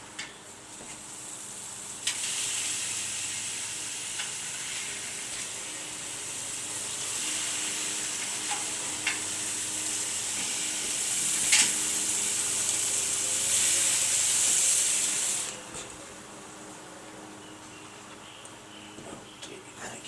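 Thin slices of meat sizzle on a hot grill or pan, a steady bright hiss that swells louder for several seconds and then drops back. Occasional clicks and pops come through alongside it.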